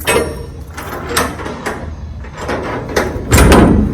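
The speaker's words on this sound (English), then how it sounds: "I'll open the doors and I'll show you a little bit on the inside" Steel shipping container doors being unlatched and swung open, a series of metallic clunks and rattles with a louder clank near the end, close and fairly loud without speech.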